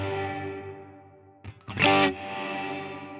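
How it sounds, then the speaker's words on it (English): A sustained electric guitar note rings through a Line 6 Helix non-linear reverb, fading steadily before a fresh pick attack swells into a bright, shimmering wash that blooms in and lingers. "hit our note or chord and have that reverb not just jump all over the note or chord right away, but just kind of bloom in"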